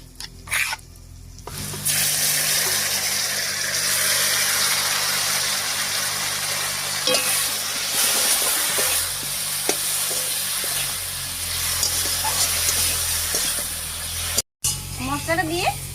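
Chili and cumin spice paste frying in a pan with China puti fish, a loud sustained sizzle that starts abruptly and continues with stirring scrapes and clicks, with a voice heard at points.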